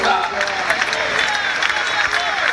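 A church congregation at a convention applauds God in steady, dense clapping from a large crowd, with murmuring voices mixed underneath throughout.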